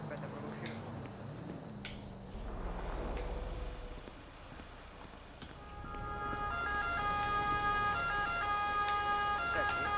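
A wailing, looping fire truck siren in a FiveM roleplay game rises in the second half, fairly faint beneath low murmuring and background noise, with scattered clicks.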